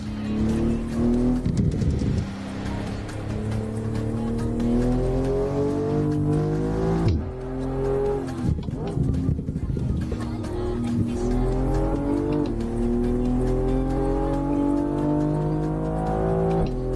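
A race car in the video game Forza Motorsport 8 revs hard through the gears, its engine pitch climbing and dropping in long sweeps, with bursts of tire squeal as it corners, loud and sustained.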